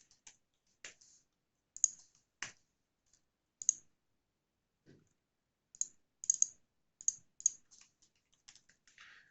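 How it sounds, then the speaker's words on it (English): Computer keyboard being typed on in quick, irregular clicks and small bursts of keystrokes with brief pauses, close and quiet against near silence. "this is just typing in expressions in active reports"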